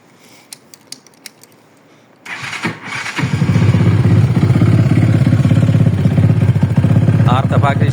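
A Chinese 200cc Kawasaki-style motorcycle: a few clicks and a quiet pause, then the engine fires and settles into a loud, close, steady idle with a rapid throbbing beat, a voice briefly audible over it.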